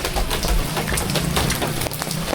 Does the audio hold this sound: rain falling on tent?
yes